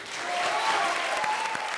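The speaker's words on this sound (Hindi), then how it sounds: "तो ताली बजाओ फिर" A comedy show audience claps in a short, full burst of applause with crowd murmur underneath, steady throughout.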